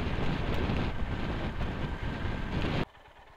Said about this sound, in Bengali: বীভৎস হাওয়া এখানে, বীভৎস হাওয়া